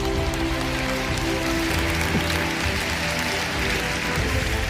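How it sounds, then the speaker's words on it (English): A live audience clapping steadily and continuously at an American football–themed motivational talk, a dense even wash of applause throughout with no talking. "Let's clap it up for these guys."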